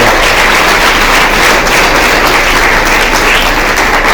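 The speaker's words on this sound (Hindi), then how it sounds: "एक बार अपने लिए जोरदार तालियां बजाइए" An audience at an inter-school Hindi patriotic song competition applauds, loud, dense clapping that holds evenly for a few seconds with no voices on top.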